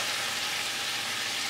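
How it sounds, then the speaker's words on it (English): Beef bacon and chicken sandwich meat fry in a pan with a continuous, even sizzle, a dense, bright crackle that holds steady without a break. "right now we're frying up some beef bacon and a little bit of chicken sandwich meat"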